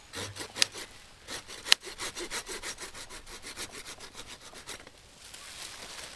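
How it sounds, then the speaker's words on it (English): A Silky pruning saw cuts through olive tree wood in quick, rhythmic back-and-forth strokes, close and crisp, about a dozen rasping passes before the sawing eases off near the end. "I love these silky saws."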